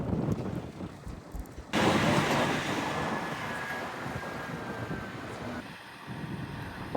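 Strong wind roars on Mount Hakodate in Hakodate, Hokkaido, a sudden broad rushing gust that buffets the microphone for several seconds, then eases and picks up again.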